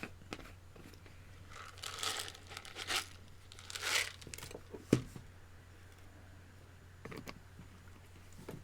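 Crinkly cough drop wrapper rustles in a few short bursts, close and quiet, followed by a sharp snap and a couple of faint crackles near the end.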